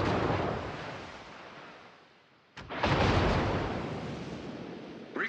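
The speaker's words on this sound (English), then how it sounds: "Concentrate fire on the enemy warship." Destroyer guns fire on an enemy battleship in a naval combat game, with a rumbling volley fading away, then a sharp loud blast followed by a long booming roar that slowly decays.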